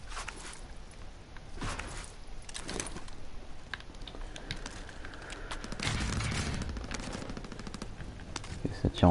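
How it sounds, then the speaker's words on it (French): Gunfire in Call of Duty on PS4, with bursts of automatic fire and scattered shots running through the whole stretch, growing denser toward the end over a steady game backdrop. "Et ça tire en face, ça tire en face"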